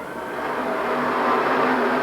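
Stock cars on an oval track during a Sportsman race, a continuous roaring wash of engines that swells slightly as the pack passes, heard from a distance without a distinct single car.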